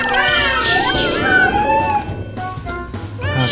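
Cartoon cats meowing in the video game Super Granny 4, several rising and falling meows close up and loud over busy game music and effects.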